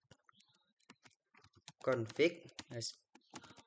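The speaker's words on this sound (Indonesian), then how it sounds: "kita buka command prompt, kita ketik ipconfig" Sparse keyboard clicks tap out ipconfig in a command prompt, soft and fairly close, with a short burst of talking in the middle.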